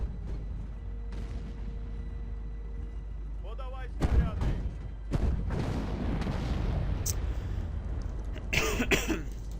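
Artillery fire from howitzers in the World War II strategy game Sudden Strike 2, with several loud booms and blasts around the middle of the clip and near the end, set over steady background game noise and a low hum.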